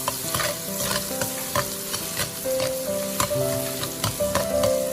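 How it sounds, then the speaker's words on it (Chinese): Ginger, garlic and small chilies stir-fried in hot oil in a wok, with a steady close sizzle broken by repeated sharp scrapes and clacks of the spatula tossing them. "倒入食用油，油热之后下入姜蒜、小米辣，再快速的翻炒"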